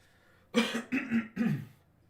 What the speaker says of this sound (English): we might be coughing a little today.